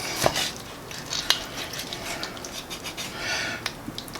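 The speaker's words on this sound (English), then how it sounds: "Just kind of slice through the breast" A knife cuts through a butterflied roasted chicken breast rubbed with smoked paprika, giving a few sharp clicks against a plate or board amid quiet kitchen clatter, with no talking.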